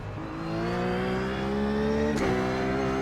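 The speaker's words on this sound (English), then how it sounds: "Every now and then, this rough will just do really rough upshifts." Ruf GT3 race car in iRacing at Sebring, engine droning steadily with harmonic whine, then a sharp, abrupt gear upshift around two seconds in before the note settles lower and continues alone.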